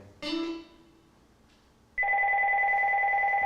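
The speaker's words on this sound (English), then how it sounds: "We got a phone call in here." A telephone rings on a live call-in show: after a brief tonal sound near the start, a steady electronic ring starts partway through and carries on loud and unbroken to the end.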